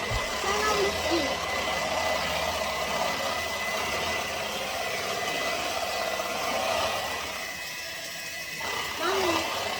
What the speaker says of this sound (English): I'm just gonna turn on our flame.